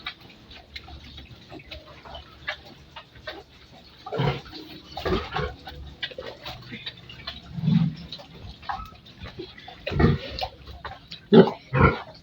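A large pregnant sow grunts low and close in short, irregular bursts, with light splashing and rustling between.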